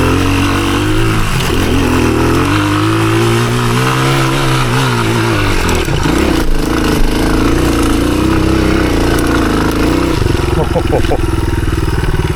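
A 1983 Honda XR200R dirt bike climbs a very steep hill in second gear on an enduro loop. Its close, loud engine strains as the revs rise and fall, then sputters and clatters near the end.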